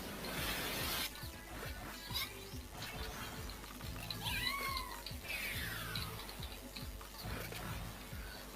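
A cartoon cat meows and yowls in a video game, with rising and falling cries over a rhythmic ticking and ratcheting game soundtrack that loops steadily throughout.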